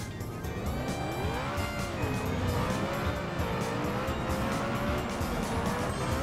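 Video game engine sound of a modded tiny Pigeon offroad vehicle: a steady, loud motor drone whose whine rises and falls with throttle, tire-squeal-like, continuous with no talk.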